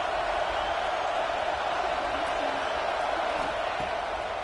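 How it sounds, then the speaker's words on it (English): A football stadium crowd roars steadily behind the defense on third down, a dense, loud, sustained wall of cheering and noise with no pauses, heard close and filling the whole span. "Decibels rising as the crowd gets behind this defense on 3rd down"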